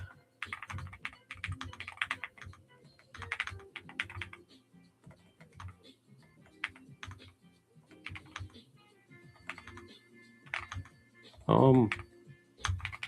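Fingers typing on a mechanical keyboard at close range: irregular bursts of crisp clicky keystrokes with pauses between, a few louder thumps, and a voice talking quietly in the gaps.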